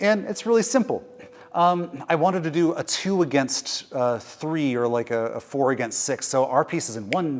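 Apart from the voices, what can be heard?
No distinct noise like a dog, phone or traffic.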